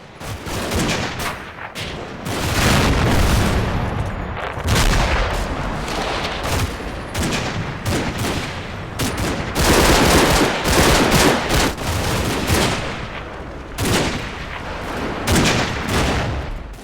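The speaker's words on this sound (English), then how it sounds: "The resulting firefight is very confused and very close range." Sustained close-range infantry firefight in Combat Mission: Red Thunder, continuous loud bursts of rifle and machine-gun fire overlapping with barely a pause, dense and chaotic throughout.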